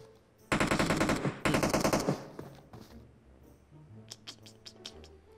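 Video game gunfire erupts as two rapid automatic bursts, loud and dense, followed by scattered quieter clicks and tapping.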